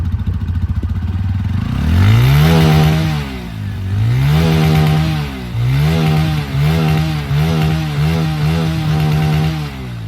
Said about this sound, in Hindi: ये अपाची का एग्जॉस्ट सुनिएगा आप।